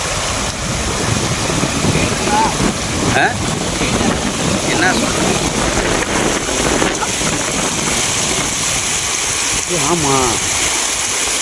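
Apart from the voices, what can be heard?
flowing stream at top of waterfall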